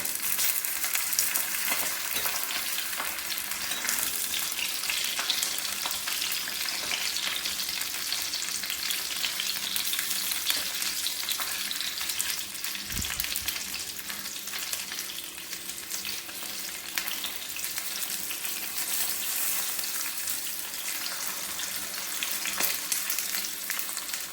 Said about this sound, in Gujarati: હવે આપણા મરચાં છે એ ફ્રાય થઈને રેડી થઈ ગયા છે